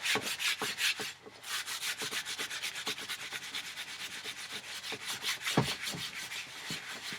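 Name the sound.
steel wool scrubbing rust off motorcycle exhaust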